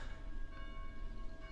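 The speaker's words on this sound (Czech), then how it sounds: "Prosím, pomoc nám umlčet ty zvony." Church bells ring in the zombie game Dead Island, a faint sustained metallic ringing with lingering overtones that hangs steadily in the background, with no talking.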